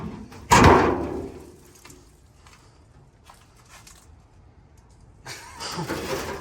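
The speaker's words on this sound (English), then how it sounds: "Let's just use the engine." A loud engine of a 1954 International truck cranks and catches with a burst, settles to a low idle, then revs up again near the end.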